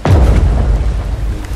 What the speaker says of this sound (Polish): nie potrafię go z tej armaty trafić